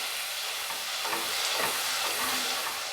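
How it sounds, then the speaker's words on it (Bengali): Spice masala frying in a pan for a raw banana fritter curry, a steady close sizzle with faint scraping strokes of stirring, no talking. "মশলাটা ভেজে নেবো এবারে"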